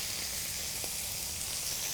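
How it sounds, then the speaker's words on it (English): Scallops sizzle steadily in a hot frying pan, a loud, even, close hiss with no pauses and no voices. "When the scallop goes into the pan, it will automatically stick to the base of the frying pan."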